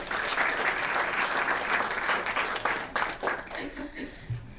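Applause for the speakers at a university ribbon-cutting ceremony for a cultural center, a full room clapping steadily before it breaks into a few scattered claps near the end.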